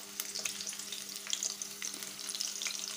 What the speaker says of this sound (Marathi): हिरवी मिरची टाकून परतून घेऊया।